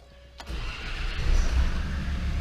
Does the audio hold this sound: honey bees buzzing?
no